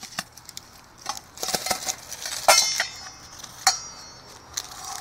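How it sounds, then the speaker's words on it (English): Pork steaks being set into a pan for a barbecue, heard as scattered clinks and clatters of metal and utensils, several sharp taps and knocks spaced irregularly among quieter rustling, close and fairly light. "Got a pan here to put it in."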